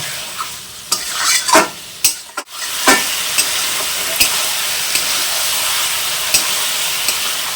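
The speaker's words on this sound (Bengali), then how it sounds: "তো সেই জন্য ঢেকে ঢেকে ভালো করে কষে নেব।" Mutton curry with potatoes is stirred and sautéed in a pan, a constant hot sizzle broken by several sharp spatula scrapes and knocks, loudest early on, with no voices.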